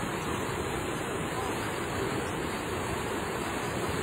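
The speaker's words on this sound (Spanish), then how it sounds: "¡Ya viene más fuerte el agua, vente!" Floodwater rushes down a river strong enough to sweep away a pickup truck, a loud, steady broadband roar with no pauses.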